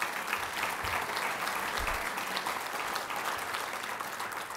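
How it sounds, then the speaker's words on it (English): Audience applause at a university agriculture college graduation ceremony, sustained steady clapping from a large crowd filling the room, with a couple of low thumps early on. "Let's give him a special round of applause."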